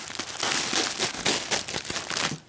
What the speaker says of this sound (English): So let me go ahead and unwrap it for you guys.